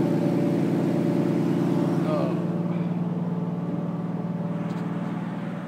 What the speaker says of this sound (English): let the turbo get some oil and let the car warm up a little bit